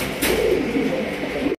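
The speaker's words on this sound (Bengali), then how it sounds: "একজোড়া ব্লু শার্টিন কবুতর, সবচাইতে একদমই লাইট কালারের মধ্যে" A pair of blue satin pigeons cooing nearby, a continuous low, throaty, rolling coo over a steady noisy background, ending abruptly.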